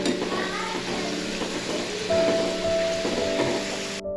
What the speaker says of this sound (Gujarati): ગોલ્ડન કલરના આપણા તળાઈ જાય ત્યાં સુધી આપણે એને ધીમા તાપે તળવાનું છે.